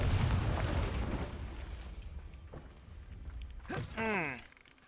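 A Confringo blasting spell in Hogwarts Legacy bursts with a heavy, rumbling explosion that rolls out and slowly fades, followed by a short rising, voice-like cry near the end.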